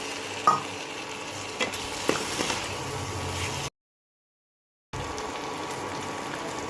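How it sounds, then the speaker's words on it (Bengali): Prawns sizzle steadily as they are stir-fried in a pan, with occasional spatula knocks, a sudden second of silence, then the frying resumes at the same level. "এবার মাছগুলো দিয়ে এটাকে ভালোভাবে কষিয়ে নেব।"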